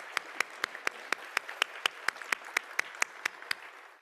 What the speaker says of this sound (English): please join me just in another round of applause to thank them for their service